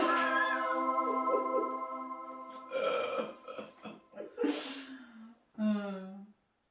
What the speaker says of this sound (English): you're burping like crazy